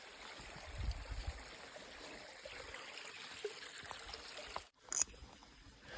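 Water trickles and flows steadily along a silty creek in Washington, a soft, continuous stream close by with a brief sharper splash or knock near the end.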